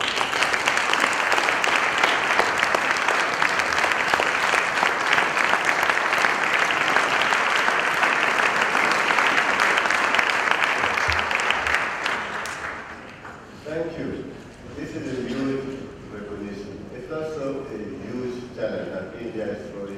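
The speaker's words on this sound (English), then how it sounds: "So I'd like everyone to really stand up and just give a big clap to the Indian government" Conference audience at a keynote session claps in a loud, sustained burst of applause for about twelve seconds, then it fades and talk resumes over the last stretch.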